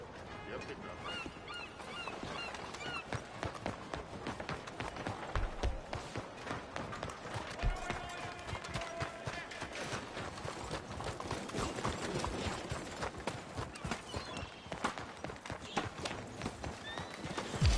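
Horse hooves clip-clop in a steady trotting rhythm through Red Dead Redemption 2, close and continuous over the whole stretch, with faint ambient sounds in the background.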